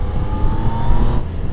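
A 2019 Yamaha Niken motorcycle engine drones steadily and loudly on a test ride, with a rumbling low tone and wind noise and no pauses.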